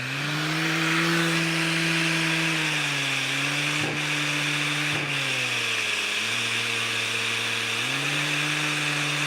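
A powered sander works a wood piece with 150 grit paper, a steady close whine with a dust collector running, the pitch dipping and rising as the speed shifts, with two brief knocks partway through.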